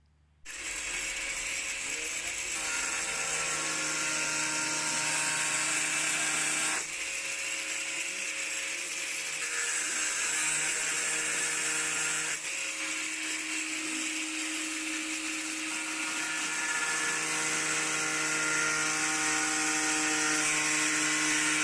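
A power tool cuts through a pickup truck bed cover, whining steadily and loudly up close for a long stretch, with slight shifts in pitch and a few brief changes in load.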